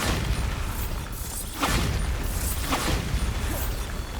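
The Bombarda blasting spell in Hogwarts Legacy lands as a dense, crackling booming burst, with a couple of sharper impacts surging within a continuous roaring rumble.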